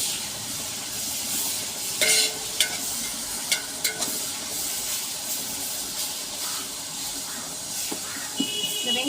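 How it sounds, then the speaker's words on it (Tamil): Onions fry with sugar in a large pot of oil for mutton biryani, a broad steady hiss and sizzle with a few sharp ladle knocks and scrapes, and no talk. "இந்த வெங்காயம் வதங்குற வரைக்கும் நம்ம வெயிட் பண்ணுவோங்க"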